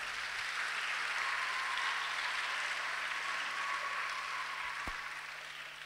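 A church congregation applauds and cheers loudly at an evangelistic service, a steady broadband wash of clapping and voices sustained throughout with a faint hum underneath.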